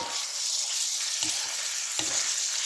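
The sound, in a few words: stir-frying pork liver in a pan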